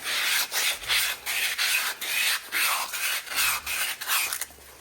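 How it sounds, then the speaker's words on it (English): Sanding by hand on a wooden china cabinet to remove old finish, rhythmic back-and-forth scratchy rubbing strokes, close and steady, about eight strokes with brief pauses, no voices. "Just getting off any little last bits of finish. Smoothing out that grain."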